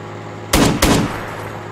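Two sharp, loud gunshots in quick succession ring out during a multiplayer military war video game session, each with a short echoing tail, over a steady low hum.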